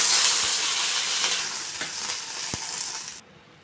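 Okra (bhindi) frying in an oil-filled pan for a Telugu bendakaya masala curry, a steady loud sizzle and hiss with a few soft stirring knocks, cutting off abruptly near the end.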